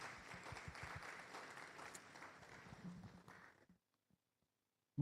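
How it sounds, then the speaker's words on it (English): Audience applause at a public report launch event, a steady wash of many hands clapping that fades out after about three and a half seconds, leaving near silence. "I think we can do another of the clap for Nana."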